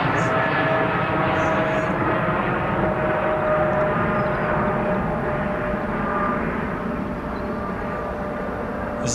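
A GE-powered Boeing 777 jet airliner roars steadily at Heathrow, a loud, continuous engine rumble with a faint whine on top that lasts the whole time.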